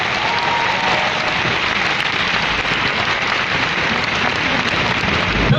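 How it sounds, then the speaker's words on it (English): Loud, sustained audience applause for a group of women performers at a Milan fragrance event, a full, rain-like roar of clapping that stays level from start to finish. "Give them a round of applause."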